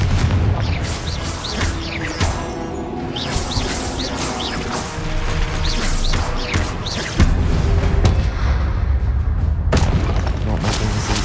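Repeated booming spell blasts and crashing impacts from Confringo fire in the Hogwarts Legacy video game, loud and dense over continuous battle noise and music for the whole stretch, with several heavier hits near the end.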